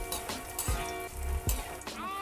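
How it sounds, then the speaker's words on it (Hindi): Makhana (fox nuts) fry in hot ghee in a kadhai with a constant close sizzle, broken by a few louder clatters as they are stirred, with no talking. "घी मेरा गर्म हो गया है, मैं इसमें मखाने डालूँगी और इन्हें अच्छे से फ्राई कर लूँगी"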